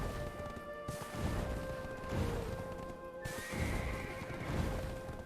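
Horse neighs and whinnies in the Black Desert video game, with clip-clopping hooves and a rumbling backdrop throughout, the calls loud and repeated over continuous game ambience.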